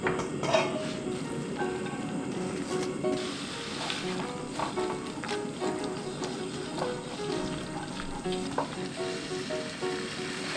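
Glass noodles stir-frying in two spoons of cooking oil, a steady close sizzle with scattered crackles and light scraping throughout, no voices.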